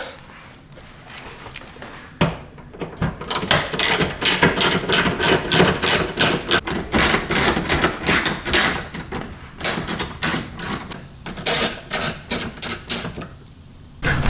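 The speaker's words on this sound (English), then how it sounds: "So they are 3 T20 Torx bolts. And so I've got my Torx socket here, and I'm going to remove all 3 of those" A ratchet on a Torx socket clicks quickly and evenly, up close, while taking T20 Torx bolts off the rear diffuser of a BMW F30 335i. The bursts repeat over about eleven seconds, with short pauses between them.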